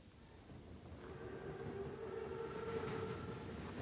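A German armoured Panzerzug train rumbles past in a World War II setting in Call of Duty WW2, a steady low roar with a faint high whine that swells slightly louder toward the end.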